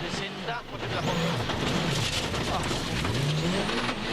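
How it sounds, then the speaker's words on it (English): A Citroen World Rally car starts a stage of the 2006 WRC rally in Australia, its engine revving and rising in pitch, loud and close, with commentary talking over it throughout. "Danny Sordo is the first of the Citroens set to start the stage."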